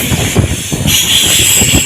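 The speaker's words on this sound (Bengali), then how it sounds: "এখন তো ট্রেনের স্পিডটা মোটামুটি চলছে ভালোই" A train runs at a fair speed through forest in the Dooars, wheels rumbling in a rapid rhythmic clatter with a steady high hiss, loud and close throughout.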